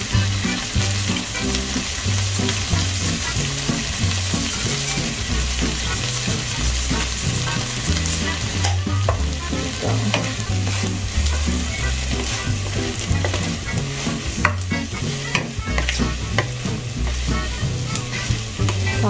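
Ratatouille vegetables seasoned with black pepper and salt sautéing in a pan: a loud, continuous close sizzle with the vegetables being tossed and stirred throughout.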